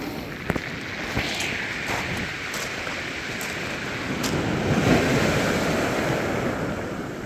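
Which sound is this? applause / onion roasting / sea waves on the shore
sea waves on the shore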